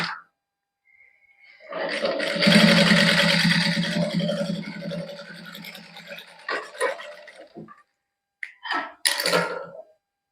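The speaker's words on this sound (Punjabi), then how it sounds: "ਹੁਣ ਆਪਾਂ ਇਸ ਤਰ੍ਹਾਂ ਮੋਢੇ ਵਾਲੀ ਸਲਾਈ ਲਾ ਲੈਣੀ ਹੌਲੀ ਹੌਲੀ ਬਾਹਾਂ ਜੜ ਲੈਣੀ ਇਹਦੇ ਨਾਲ" A sewing machine stitches the shoulder seam of a warm fabric t-shirt. One sustained, close whirring run of several seconds is followed by short stop-start bursts, with quiet pauses between.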